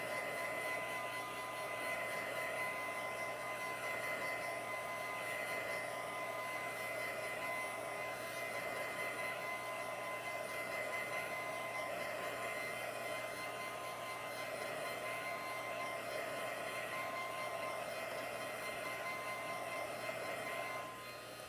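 A hair dryer blowing on stencil ink, a constant whirring hum with a steady airy rush that runs unbroken throughout, fairly close and with no talking.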